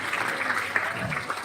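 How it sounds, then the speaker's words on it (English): Audience applause at a live-streamed workshop event, a steady, dense wash of clapping that holds at even loudness for the whole moment, with no voices on top. "Okay, big round of applause to sir."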